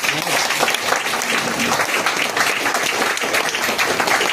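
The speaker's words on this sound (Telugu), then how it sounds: "క్లాప్స్ కొట్టచ్చా లేదా?" A crowd claps in sustained applause, dense and even for a few seconds, with no other sounds standing out.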